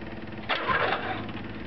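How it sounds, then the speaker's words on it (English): Electric fuel pump fitted to a Grasshopper diesel mower, whirring quietly once the key is turned, a steady close mechanical hum with a faint rise in the middle and no talking. "when you turn the key on, if you listen real close, you can hear the pump run"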